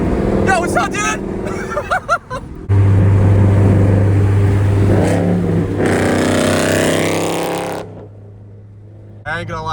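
A 2014 Ford Mustang V6 engine roars loudly nearby in a sustained rev that slowly fades, with people talking over it before and after.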